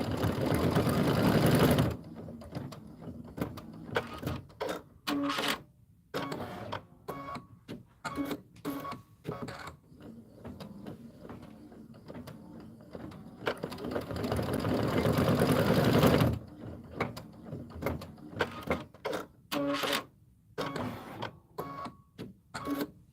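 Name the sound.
embroidery machine stitching a design in the hoop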